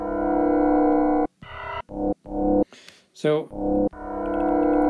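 A sustained electronic drone from reverb feedback resampled repeatedly in Koala Sampler, chopped into stuttering bursts, with a brief swooping feedback tone, and a single spoken word.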